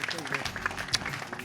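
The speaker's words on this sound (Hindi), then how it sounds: "ज़ोरदार ताली होनी चाहिए नसीर भाई के लिए।" An audience claps for Naseeruddin Shah at the IRADA trailer launch event, a brief burst of scattered applause heard under ongoing speech.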